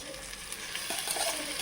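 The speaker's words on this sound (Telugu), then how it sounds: "ఎర్రగా వచ్చి రోయిపొట్టు వేసేస్తున్నా" Dried shrimp fry in hot oil with a steady close sizzle, and a few faint stirring scrapes come through over the bubbling.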